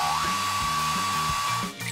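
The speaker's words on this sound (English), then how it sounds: "Now, can you put the cupboard in dryer mode, please? Hair dryer mode activate!" A hair dryer blows steadily and loudly with a constant whine, running alone without speech before cutting off briefly near the end.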